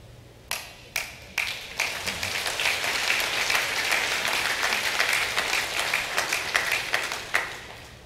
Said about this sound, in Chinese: 这掌声，